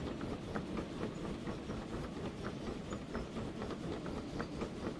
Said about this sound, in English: The steam train can go pretty quickly.